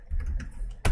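Fingers tap briefly on a computer keyboard at a terminal, a few soft keystrokes followed by a sharper burst of clicks.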